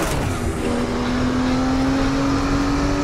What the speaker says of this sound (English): Zonda screaming by.